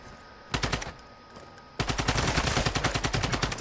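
Video game gunfire: a short automatic burst early on, then after a pause a longer, louder run of rapid machine-gun shots firing in a fast, even rhythm to the end.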